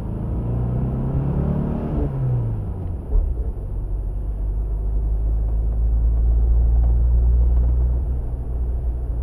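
A 1976 Porsche 914 pulls away in first gear through weekend traffic, its engine a steady close low rumble with a brief rising whine early on, heard alone without talk.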